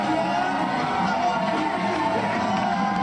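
A crowd of speedrunners at a Games Done Quick charity marathon event clapping together in time, a loud, dense roar of claps and cheering sustained throughout, with voices mixed in.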